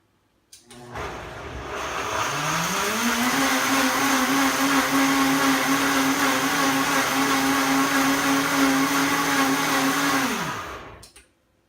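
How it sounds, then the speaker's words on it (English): A countertop blender grinds a smoothie in one continuous loud run, its motor pitch rising as it spins up, holding steady for about eight seconds, then winding down, with no talking. "So it makes making smoothies a lot easier. So I'm going to grind this up."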